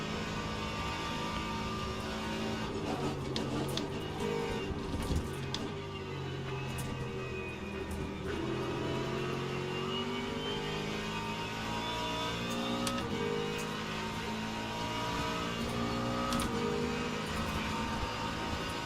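A GT3 race car at Sebring in Le Mans Ultimate, its engine droning steadily at high revs down a straight with gear changes and the whine of nearby cars racing alongside.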